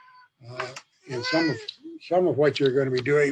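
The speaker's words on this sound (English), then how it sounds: "that's my cat that's visiting here." A house cat meows indoors, its calls mixed in with and partly masked by a person talking steadily nearby.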